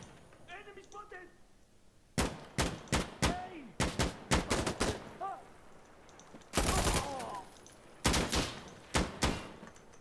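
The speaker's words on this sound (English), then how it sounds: "Where are they shooting from?" Bursts of gunfire in the Insurgency Sandstorm video game, loud sharp shots in rapid clusters with short gaps, over a low background and faint game sounds between volleys.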